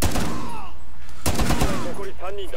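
Gunfire in Rainbow Six Siege's Terrorist Hunt mode: a loud crack near 1.3 s stands out from dense, constant game noise, with short burst-like shots and whooshing effects around it.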